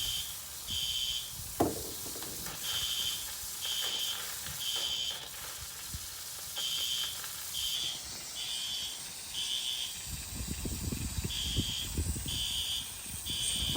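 A fire alarm sounds repeated evenly spaced electronic beeps during a fire sprinkler test after a water supply upgrade. A steady high tone joins partway through, with scattered clunks and a burst of spraying water noise near the end.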